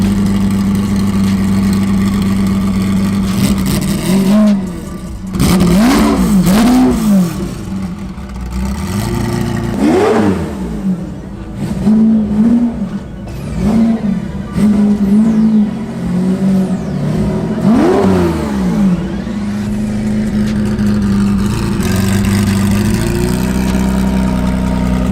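Ferrari Testarossa engine warming up after a cold start, a loud uneven idle broken by several sharp revs that rise and fall, heard close with no talking.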